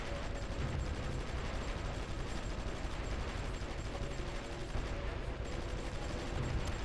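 Dense, continuous gunfire and distant artillery rumble from a battle in the strategy game Supreme Ruler Ultimate, a steady wash of rattling shots at even volume throughout.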